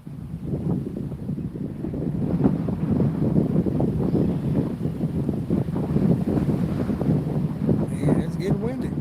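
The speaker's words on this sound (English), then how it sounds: "And it's getting windy." Steady wind rushing and buffeting a microphone outdoors while fishing, with low rumbling gusts throughout and faint water-like noise underneath.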